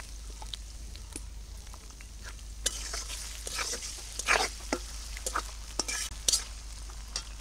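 Chopped onion and small prawns frying together in a pan, with a soft continuous sizzle broken by scattered scraping stir strokes, close and moderately quiet.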